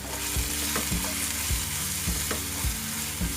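For soya Manchurian, vegetables sizzle steadily in a pan while a spatula knocks and scrapes through them in repeated stirring strokes, heard up close with no talking.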